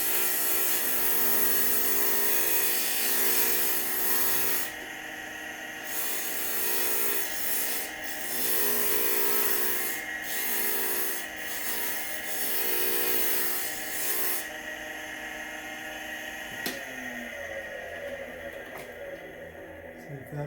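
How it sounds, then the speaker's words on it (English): A glass grinder grinding down both ends of a stained glass piece in a studio, a steady close whirring rasp with shifting pressure, then a sharp scrape near the end before the motor runs down. "So I'm gonna go hit the grinder and grind down both ends of this piece."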